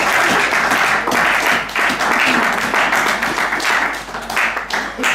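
A church congregation bursts into loud, sustained applause, dense clapping close by that swells and dips slightly in waves over several seconds.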